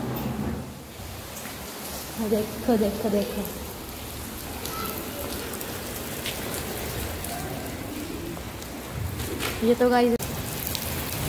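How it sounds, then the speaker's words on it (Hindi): Heavy rain pours steadily in a dense, hissing wash while a person talks briefly over it a couple of times. "बहुत तेज बारिश हो रही है"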